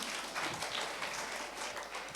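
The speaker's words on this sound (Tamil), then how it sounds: "டீச்சர்ஸ்க்கும் சேர்ந்து ஒரு நல்ல கைத்தட்டல கொடுத்துடலாமா?" Audience applause at a school VBS event, a continuous patter of many hands clapping at a steady moderate level for the full stretch, with no voices above it.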